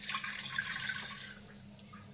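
Water poured into a Hawkins pressure cooker, a short bright splashing gush that fades after about a second and a half, close and alone.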